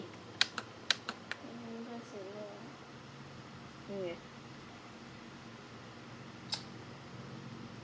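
Keys on a computer keyboard pressed during a game: a quick run of sharp, close clicks near the start and one more click later, over a steady background hum, with some voice in between.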